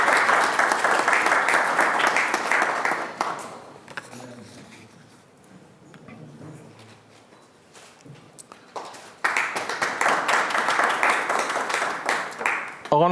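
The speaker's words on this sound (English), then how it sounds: "Please, a round of applause for her," Audience applause at a diplomatic award ceremony comes in two bursts, a few seconds of clapping, then a quieter lull with faint room sounds, then the clapping swells again.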